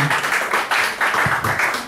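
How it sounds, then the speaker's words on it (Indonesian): Audience applause at an insurance sales training session, a loud, dense wash of clapping from a crowd that fills the whole stretch with a steady, slightly pulsing roar. "sekali lagi tepuk tangan untuk Anda semuanya"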